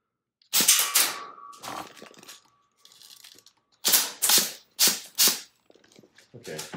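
A 3D-printed HPA engine airsoft gun fires a series of sharp, loud, snappy shots, some in quick pairs with gaps between, close by, with a steady faint tone under the first few shots and no clear voices.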